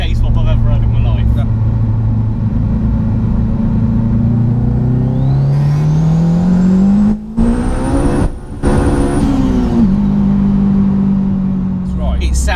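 A 430 bhp turbocharged K20 engine swapped into a Mitsubishi Colt revs loudly and close, its droning note climbing steadily in pitch with a high turbo whine, briefly cutting out, then easing back down to idle.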